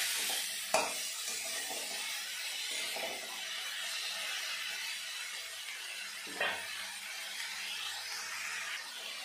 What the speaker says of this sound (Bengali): এখন দিয়ে দেবো কেটে রাখা চিচিঙ্গিগুলো।